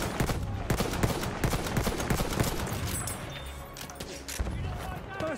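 An enemy artillery barrage in Battlefield 1 pounds as rapid explosive thuds and cracks over a constant rumbling battlefield, with a voice speaking intermittently beneath.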